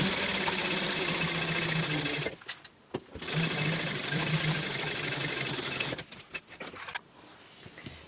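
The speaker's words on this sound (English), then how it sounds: "and then sew it at 3/8 of an inch seam allowance" A sewing machine runs steadily, stitching a 3/8-inch seam on a fabric book bag, with two short pauses where the motor stops before it resumes at close range.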